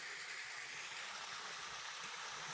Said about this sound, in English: there's a nice pour off, a little waterfall up here